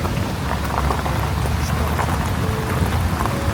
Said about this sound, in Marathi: पाऊस पूर्ण पडलाय